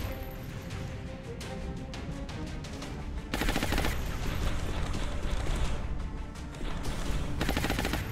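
Suppressive gunfire in XCOM Long War, sustained automatic bursts that rattle loudly and continuously, swelling into louder fusillades with short lulls between them.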